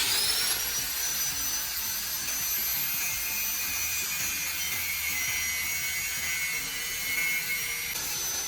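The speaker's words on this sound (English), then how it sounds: "then trim away the broken edge with a cutting wheel" A cutting wheel trims the broken edge of a ceramic cup clamped in a vise, producing a continuous high-pitched whine and hiss that holds steady throughout.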